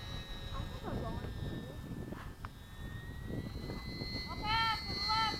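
An 80mm FMS Hawk RC jet model flies overhead at a model airfield, its electric ducted fan giving a steady whine that swells louder near the end, while people talk nearby.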